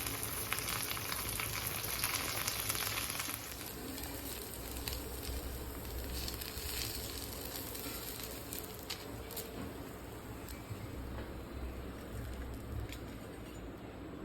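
Onion rava dosa frying in a little oil and ghee gives a steady, close sizzle that runs the whole time, louder at the start, with small pops and no talking.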